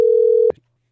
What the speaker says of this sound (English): let's get Sarah on the phone